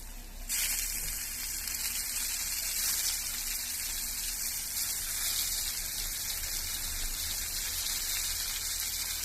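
Potatoes frying in hot sunflower oil in a pan give a steady, close hiss of bubbling sizzle that starts abruptly and runs unbroken at an even level, with no talking.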